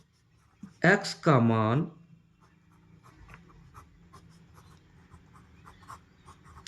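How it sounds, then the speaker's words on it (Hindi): Pen scratching on paper while a maths problem is worked out, light intermittent strokes and taps that continue quietly after a short burst of speech. "तो लिखते हैं अब"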